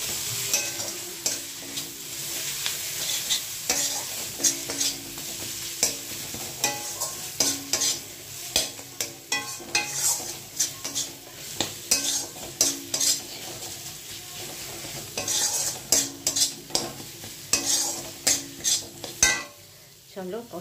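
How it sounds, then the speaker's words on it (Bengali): Fish masala with coriander leaves is stir-fried in a pan, the utensil scraping and clanking in a busy repeated rhythm over a constant low sizzle, close and without speech. "মশলাটা আমার কষানো, তার মধ্যে আমি ধনেপাতা দিয়ে আর একটু কষিয়ে নেব।"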